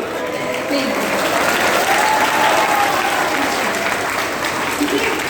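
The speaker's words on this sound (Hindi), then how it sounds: "ये सारे GTA फैंस हैं, बहुत तेज तालियां।" A talk show audience of GTA fans bursts into loud, sustained applause, a dense wash of clapping that holds steady throughout.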